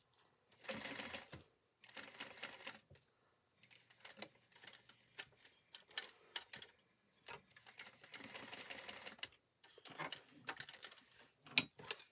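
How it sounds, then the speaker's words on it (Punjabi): A sewing machine stitches fabric in bursts of a few seconds each with short pauses between, running on gota lace trim at a boutique tailoring bench, fairly faint and with no talk over it. "ਗੋਟੇ ਵਾਲੀ ਜਗ੍ਹਾ 'ਤੇ ਮਸ਼ੀਨ ਲਗਾ ਲੈਣੀ ਆ"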